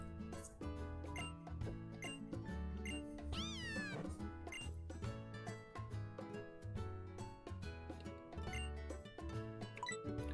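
Meows from a cat in the Pokémon Sun video game ring out over the game's bouncy background music, with a chime-like jingle and a sweeping tone partway through, no talking.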